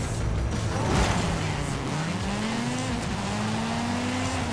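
A Ford Escort Cosworth races in Forza Horizon 5, its engine a loud, continuous drone rising steadily in pitch under acceleration with a brief dip as it shifts, and rough road rumble beneath.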